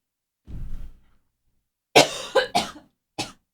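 A short muffled cough, a pause, then a burst of three sharp coughs and one more cough, close and fairly loud.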